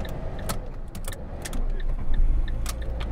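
A car during a driving lesson jangles keys and turns over as the engine starts, with clicks and a rising motor rumble in the second half, close inside the cabin.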